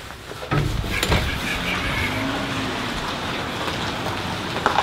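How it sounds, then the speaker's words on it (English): Rain falling outside a shop on a rainy day, a steady soft hiss of drops on surfaces with a few brief louder knocks, no talking. "It's raining outside."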